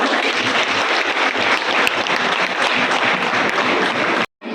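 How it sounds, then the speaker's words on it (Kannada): Loud, sustained applause from an audience at a Shivamogga district police Women's Day event, a dense wash of clapping that continues steadily and then cuts off abruptly near the end. "ಅವರಿಗೆ ಜೋರಾದ ಚಪ್ಪಾಳೆಗಳು"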